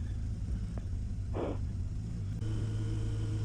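The Kawasaki ZG1200 Voyager XII motorcycle idles with a low, steady engine hum, quiet and even, broken by a brief hiss in the middle and a slight shift in tone near the end.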